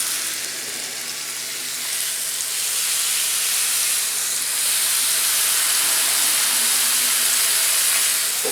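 Food sizzling on a mini plancha grill as oil starts to release, a loud steady hiss and crackle that swells slightly over several seconds, close up and without speech.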